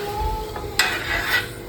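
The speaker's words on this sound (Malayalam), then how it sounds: "എണ്ണ കാച്ചാൻ തുടങ്ങി നല്ലതുപോലെ തിളച്ച് വന്നിട്ടുണ്ട്" Traditional homemade herbal oil boils in a pan, giving a low bubbling sizzle with small crackles and a few sharp pops and metallic taps, close and steady throughout.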